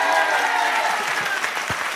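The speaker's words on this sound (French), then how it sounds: "Le public qui vous applaudit chaleureusement." A studio audience claps warmly for arriving guests on a French television show, a dense, steady burst of applause close and loud throughout.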